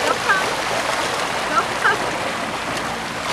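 Salmon splash and thrash in a rushing stream, with water noise steady throughout and a few sharper splashes standing out near by.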